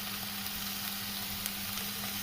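Pork frying in its own rendered fat in a pan on a village-style stove, a steady close sizzle and bubbling boil that runs unbroken and alone at an even, moderately quiet level.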